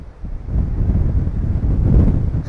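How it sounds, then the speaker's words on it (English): Wind gusts across an exposed stretch of Welsh coastline near Cwyfan Church at sunset, a steady low roar with buffeting on the microphone that builds slightly toward the end, with no voices. "it's more exposed down here, so I'm feeling the wind a bit more"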